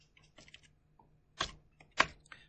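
A few scattered computer keystrokes, quiet and close, with two sharper clicks standing out among lighter taps.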